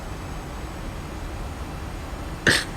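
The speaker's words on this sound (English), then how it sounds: "Sorry for that cough" A single short cough from a person at a home flight-simulator setup, sharp and close, breaking through a steady background hiss near the end.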